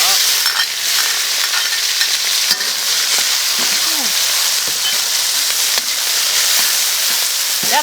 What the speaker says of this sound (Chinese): 把这个下锅炒。